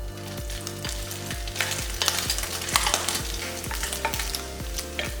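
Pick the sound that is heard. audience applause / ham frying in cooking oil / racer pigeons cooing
ham frying in cooking oil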